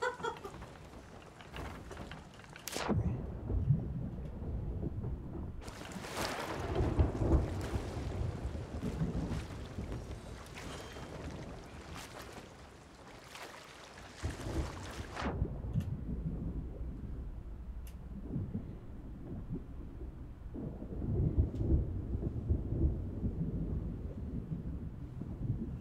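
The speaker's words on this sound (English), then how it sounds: "Oh no, now there's a storm coming." A thunderstorm in a pirate video game: deep rumbling thunder rolls and swells amid wind and sea noise, with several loud surges and softer stretches, no speech.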